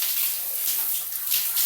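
Shower water runs steadily as hair and body are rinsed, a close, even hiss of spray broken by splashing, with no talking.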